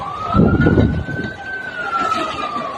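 Fire brigade vehicles arrive at a slum fire beside a railway track in Mumbai, a wailing siren rising and holding over rumbling traffic and crowd noise, loud and close.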